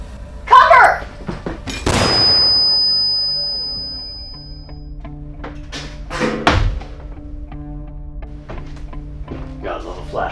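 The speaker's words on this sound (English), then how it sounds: "Gotta love a flash grenade." A flash grenade goes off in a Space Marines sci-fi battle scene, a sharp loud broadband burst with a long ringing high tone trailing after it, followed by further thuds and impacts under speech.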